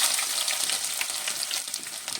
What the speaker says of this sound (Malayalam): ഇഞ്ചി വെളുത്തുള്ളി ഇട്ട് കൊടുക്കാം